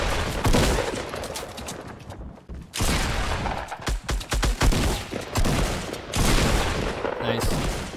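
Dense bursts of rapid gunfire from the Fortnite video game, shots crackling close and loud in overlapping volleys with brief pauses, under occasional voices.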